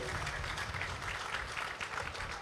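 Faint, thin applause from a youth rally crowd for the minister, a steady patter of clapping that stays quiet and never swells, with a little murmuring mixed in.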